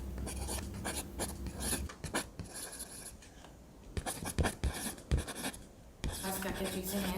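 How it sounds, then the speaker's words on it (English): A pen scratches across paper in fast close strokes, pausing briefly now and then before running on again. The writing is quiet and nearby, with no voice over it. "I'm just gonna write it down quickly"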